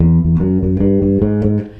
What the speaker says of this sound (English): So this little kind of walking bass line